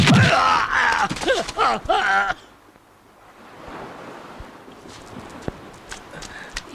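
Horse hooves clip-clop at a steady pace under a loud, dramatic voice with a swelling movie-style sound, then continue more faintly over wind and a wash like surf.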